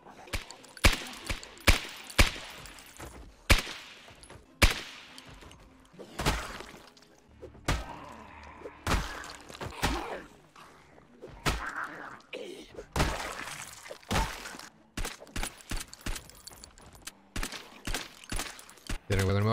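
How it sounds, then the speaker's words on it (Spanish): Gunfire in the zombie survival game Project Zomboid, with a rapid series of sharp, loud shots and impacts spread across the stretch while players talk excitedly over them. "Trata de tirar unos tiros y volver."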